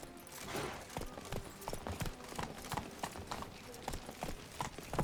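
A horse gallops in The Witcher 3 video game, its hooves clip-clopping in a quick, steady rhythm close by for the whole stretch, with faint ambient sound beneath.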